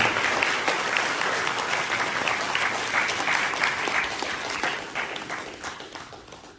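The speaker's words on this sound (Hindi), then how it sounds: "सबसे पहले जोरदार ताली।" Audience at a motivational business gathering bursting into loud applause, a dense sustained roar of clapping that holds steady and then gradually tapers off toward the end.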